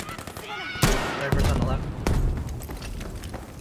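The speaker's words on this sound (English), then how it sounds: "Dumbass shooting at me with 40 cal." Bursts of .40 cal machine gun fire in a video game sound as sharp, loud cracks and booming impacts, with several distinct shots spread across the moment over background game noise and voices.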